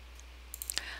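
Several quick, faint clicks of a computer mouse button in a spreadsheet program, a short cluster of light taps over a steady low hum, with no talking.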